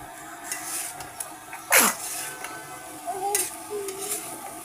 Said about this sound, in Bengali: এখন বরবটিগুলো দিয়ে ভালো করে কষিয়ে নেব।